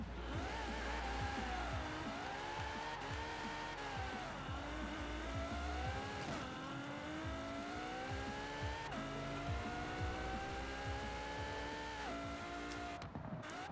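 Ferrari FXX engine in Forza Horizon 4 revving continuously, pitch climbing through the gears then dropping at each shift, loud and steady with no voices.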